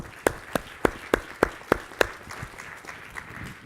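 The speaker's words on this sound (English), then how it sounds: "So give them a round of applause." At an organic produce industry conference session, audience clapping for sponsors begins with about eight sharp, evenly spaced claps standing out near the front, then softens into quieter scattered applause.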